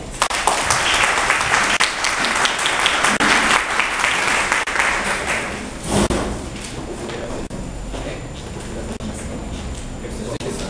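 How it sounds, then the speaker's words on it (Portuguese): Audience applause at a Brazilian labour-law book launch, loud and sustained for about six seconds, then fading into a lighter patter of scattered clapping with room noise. "eu peço que vocês recebam o professor Felipe com a salva de palmas."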